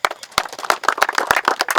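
Football players clap for themselves after training, a burst of sharp, irregular handclaps close by with no talking.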